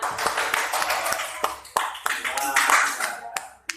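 Classroom group of teachers clapping a counted rhythmic pattern, sharp bursts of claps in sets separated by brief pauses, with a voice speaking between them.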